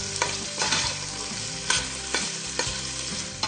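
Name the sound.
stirring capsicum and green beans in a frying curry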